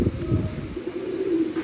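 Pet pigeons cooing in a low, throaty rolling call, close and steady, with no other sound.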